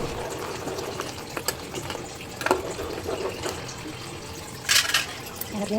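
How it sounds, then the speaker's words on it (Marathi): Hot water splashes and trickles into a pot of Malvani-style crab curry, a steady watery wash with a few louder splashes, near and moderately loud without talking. "हे गरम केलेलं पाणी आपण अंदाजाने ह्यामध्ये टाकून घ्यायचं आहे"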